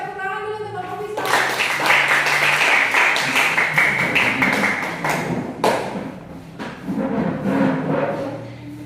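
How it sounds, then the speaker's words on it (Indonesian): Classroom applause for a group presenting in a teacher-training session: dense clapping from many hands fills most of the stretch, loud and steady, then thins and tapers with some talk and room noise near the end. "Jadi tepuk tangan dulu untuk kelompok visual."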